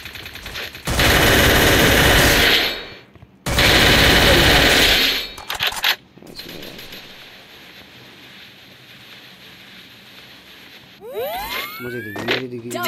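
Rapid automatic gunfire from the battle royale video game Free Fire in two long, loud bursts, then quieter game ambience with a brief electronic whooshing effect at the end.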